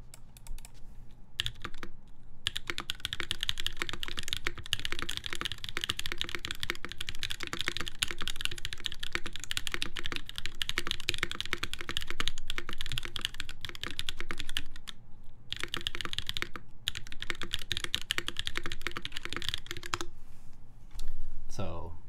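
Steady typing on a Merisi Works Sessantacinque mechanical keyboard, dense rapid clacking keystrokes close up with a slight room reverb, continuing for the whole stretch with brief pauses.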